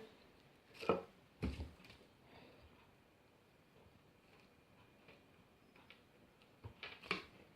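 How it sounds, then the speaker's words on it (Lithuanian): A knife slicing through cheese and sausage on a board makes a few sharp, separate cuts and taps, close and fairly quiet, with long hushed gaps between them. "supjaustome sūrį ir dešrą"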